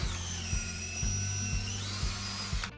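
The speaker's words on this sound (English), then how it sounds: "The second pre-drill is with a 3/16 bit, but this one's only going to drill through the first 2x4." A power drill with a 3/16 bit pre-drills through a 2x4 for a garage storage shelf, giving a steady high whine with a low rumbling pulse underneath, close up and continuous.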